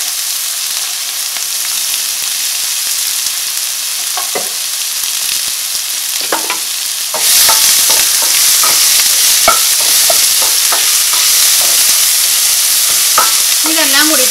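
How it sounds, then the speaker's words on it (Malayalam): Onion, ginger and green chili sautéing in a pan for samosa filling, a steady loud sizzle with repeated scraping stirs that grows louder and busier partway through. "ഇതെല്ലാം കൂടിയിട്ട് നന്നായിട്ടൊന്ന് വഴറ്റിയിട്ട് എടുക്കാം"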